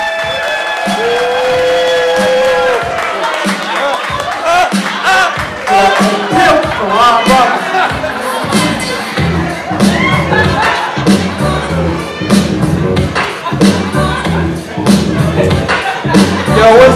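A concert crowd at a hip hop show in Charlotte applauds and cheers for a performer, with loud, dense clapping and whooping shouts that swell and carry on throughout, and a voice briefly calling out over the noise.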